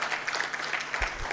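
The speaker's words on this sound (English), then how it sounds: "A round of applause for her as she" Brief burst of audience clapping at a national stakeholders' dialogue on constitutional reforms, greeting a panelist walking to the front; dense, moderately loud clapping with a low thump near the end.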